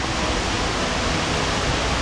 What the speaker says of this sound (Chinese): 这个就是白丝瀑布了。